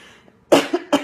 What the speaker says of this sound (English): I didn't mean to cough, not in your direction.